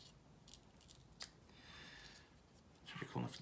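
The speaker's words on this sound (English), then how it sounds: "Take this tape off." Adhesive tape peeled off an RC car's 12-volt 3-cell battery during banana-plug soldering work, heard as a few quiet ripping and crackling strips, with a longer tearing stretch and a louder rustle near the end.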